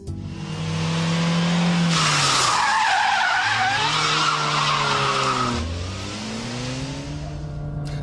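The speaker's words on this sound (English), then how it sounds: "yank the handbrake, the rear wheels will lock as the back end slides round" A front-wheel-drive car pulls a handbrake turn: the engine revs, then a loud tire squeal and skid lasts several seconds as the back end slides round, ending as the engine note drops and picks up again.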